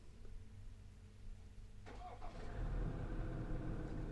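A vehicle engine cranks and fires up, then keeps running with a steady, rough mid-low drone, heard faintly from a moderate distance on a cold day with no talking.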